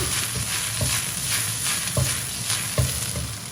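Napa cabbage being stir-fried in a hot wok, a steady loud sizzle with rhythmic scraping and clanking of a spatula tossing the leaves every second or so, no talk.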